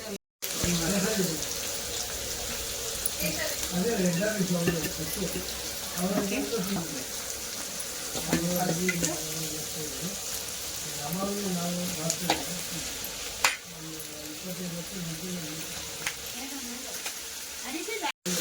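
Garlic and spices fry in a pan for a chapati side curry, a steady sizzle with stirring running the whole way and voices talking over it.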